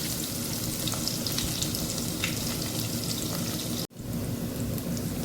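Onion dropped into hot oil with bay leaf, cardamom and cinnamon, making a dense, continuous close sizzle with faint stirring ticks and one sudden brief dropout near the end.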